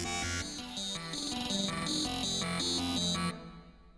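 Off-key spam notes tuned to F played over an instrumental in E, a fast stuttering run of repeated synth notes clashing against the backing track, loud and dense before cutting off abruptly near the end.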